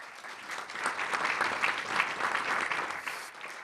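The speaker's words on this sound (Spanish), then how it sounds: "Fuerte aplauso, por favor" At an acoustic concert by a folk group, a moderately distant audience gives a steady round of applause that swells and continues for several seconds without talk.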